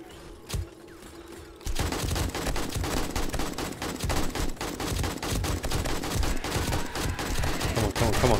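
Rapid automatic gunfire from a turret in 7 Days to Die on horde night at a hospital, a steady dense volley that bursts in loud after a brief quiet start and keeps hammering without pause.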